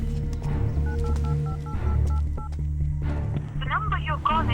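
Telephone keypad tones being dialed: a quick run of short, evenly spaced beeps under a low musical score and voices talking.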